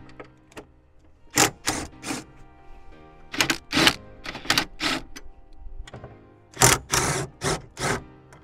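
A small impact driver with a wobble extension and 13 mm socket removing seat bolts in a Jeep TJ Unlimited, heard as several short, loud hammering bursts in quick clusters with pauses between.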